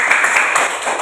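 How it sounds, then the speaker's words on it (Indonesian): Classmates in a school classroom give a brief burst of steady group clapping, close and fairly loud, lasting only about a second. "Tepuk tangan dong teman-teman."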